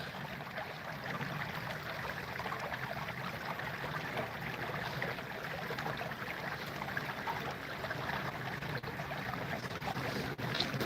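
Water flowing steadily in Indian Creek out in remote hiking country, a constant soft rushing wash with no breaks, faint and ambient against the open air.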